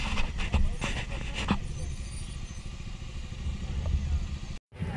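Traffic on a steep uphill road, with motorcycle and car engines idling and rumbling close by and a few clattering knocks, followed by a brief dropout near the end.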